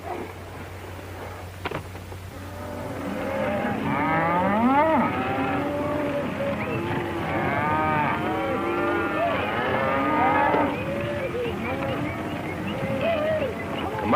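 Cattle low and moo repeatedly in a herd, several overlapping drawn-out calls near and far, over a steady outdoor background in a 1937 Western set on a Montana cattle drive.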